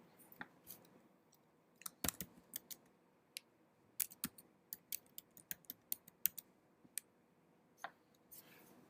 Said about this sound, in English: Right now I'm going to use the keyboard of my computer.